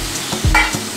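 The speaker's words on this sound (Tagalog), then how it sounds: "Itong ginigisa to, dapat kailangan ay sumasayaw sana ng paparampampam" Mung beans and aromatics sautéing for a Filipino monggo dish, a steady close sizzle with a short stirring clatter in the middle.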